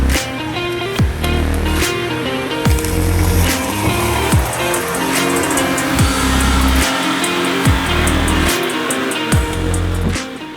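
A Honda Acty kei mini truck grinds through a mud hole in low gear, its small engine droning loud and close with repeated revs and surges, spinning and splashing through the wet ground, no voices.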